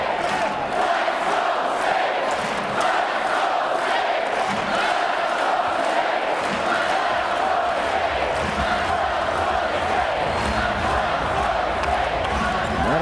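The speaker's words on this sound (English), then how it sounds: "The crowd yelling, "Let's go State."" Basketball arena crowd at an Iowa State versus Iowa game, steady loud roar with a rhythmic chant of fans pulsing throughout, dense and continuous from a distance.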